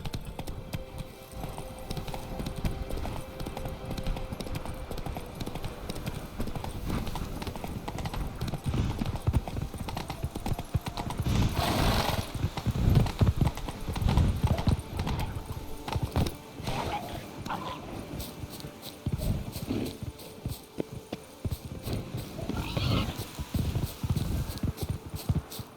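Horse hooves gallop in The Witcher 3 video game, an even, rhythmic clip-clop running throughout at moderate loudness, with a brief voice now and then.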